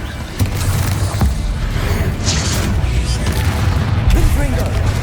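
Confringo blasting spells fired in the Hogwarts Legacy video game, a dense dull rumble of booming explosions and crackling bursts that continues steadily at close range with no pause.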